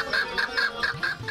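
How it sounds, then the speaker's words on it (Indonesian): A fighting rooster clucks in a run of about six short, evenly spaced calls, fairly close and clear, with no talk over it. "Ayam petarung, ayam malas mungkin ya itu."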